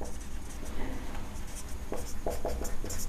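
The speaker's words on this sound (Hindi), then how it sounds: "चलो मैं थोड़ा इसे लिखता हूँ इधर" Handwriting during a Class 12 maths lecture on differentiability, soft scratchy marker or pen strokes in short bursts over a faint room hum, no talking.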